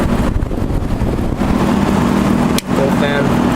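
A vintage White-Westinghouse 5900 BTU window air conditioner fan runs on high speed, a steady broadband whoosh with a low hum, close and continuous, with a brief click partway through.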